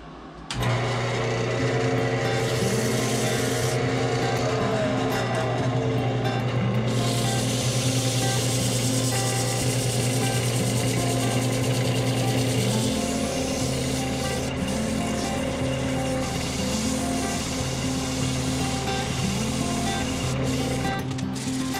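A birch wood vessel spins on a woodturning lathe while being sanded through grits from 150 to 600, a loud steady motor hum with a rough rubbing hiss; the tone steps lower about halfway through.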